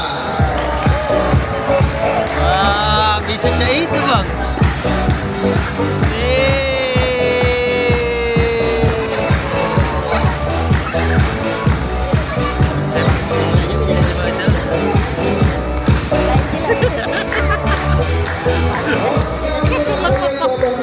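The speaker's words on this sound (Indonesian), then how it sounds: "terima kasih semangat tepuk tangan dari Anda" An audience at a tiger show in a safari park claps and cheers steadily and loudly for a long stretch, with a crowd murmuring and a voice speaking briefly over the applause.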